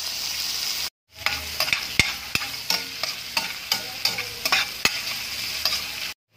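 Ginger and garlic drop into hot oil in a pan, a loud close sizzle broken by a series of sharp scraping stirs and clicks of a spatula, with no talking.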